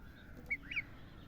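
A rooster lets out two short, nasal clucks in quick succession, fairly faint against a quiet outdoor background.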